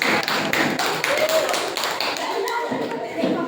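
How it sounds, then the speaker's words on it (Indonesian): Seventh-grade students in a classroom clap their hands together in a steady, dense burst of applause close by, with a voice speaking over it. "ya, boleh tepuk tangan ya."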